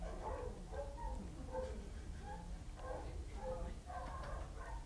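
A shelter dog with severe barrier frustration barks and yips in a series of sharp bursts, heard through a played recording that sounds thin and somewhat distant.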